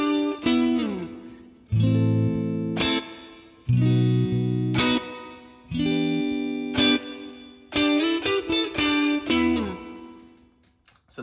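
A pentatonic electric guitar lick from a song, played through effects with light distortion and chorus: short picked phrases and sustained ringing notes in clear bursts, close and alone, with no talking.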